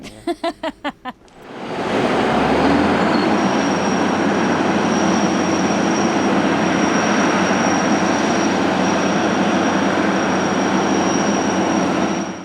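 A few quick engine puffs, then an old tractor engine roars into a loud, steady running drone that continues throughout, close by.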